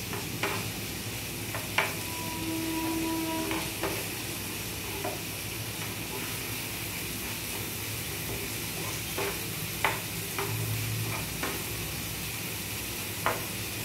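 Onion and tomato frying in a spiced tempering, a continuous soft sizzle under occasional ladle taps and scraping stirs, close and steady throughout.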